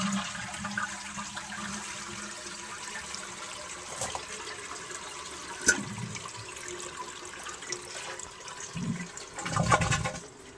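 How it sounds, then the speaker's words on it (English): A 1954 Eljer Waco toilet flushing, with its overflow tube aimed into a jug: steady rushing water, then gurgling and splashing bursts near the end, close and moderately loud, with no talking. "now I'll flush the toilet."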